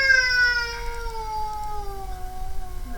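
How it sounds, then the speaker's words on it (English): A cat lets out one long, drawn-out meow that slowly falls in pitch and holds for several seconds, close and clear, with no talk over it. "The cat just walks by"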